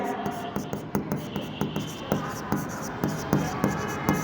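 Pen writing on paper during an accounting lesson, a rhythmic series of quick scratchy strokes close by, with a voice speaking softly underneath.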